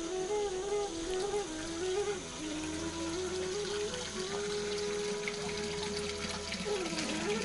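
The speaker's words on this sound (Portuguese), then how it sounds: "Temos aqui mais uma fonte." Water running from a village fountain in Alte, Portugal: a steady splashing trickle with a constant hum, continuous and close, with a wavering tonal line weaving through.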